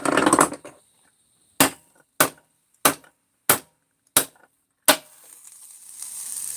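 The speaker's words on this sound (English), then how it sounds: "Sometimes you just tap it and the bearing comes out." Six sharp metallic hammer taps ring out at roughly even intervals as a bearing is tapped out of an engine crankcase, close and loud, with quiet pauses between strikes.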